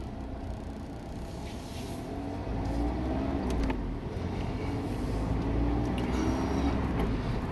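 A Mazda MX-5 engine starts up and settles into a steady low idle on a cold morning, a continuous near rumble with no talk over it.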